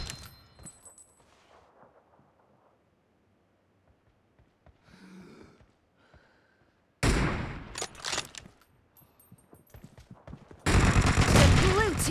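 Gunfire in the PUBG Mobile video game, quiet at first, then bursts of loud rapid shots, with a heavy sustained barrage near the end, and game announcer voice lines between.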